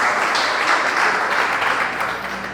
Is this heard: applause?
yes